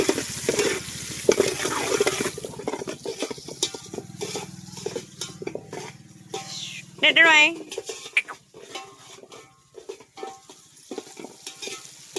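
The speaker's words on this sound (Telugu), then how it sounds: "అలానే ఒక పక్క కర్రీ కూడా వేగుతూ ఉంది." Carrot, onion and green chili curry frying and being stirred in a pan, with a steady sizzle and scraping of the spoon running under a voice talking throughout.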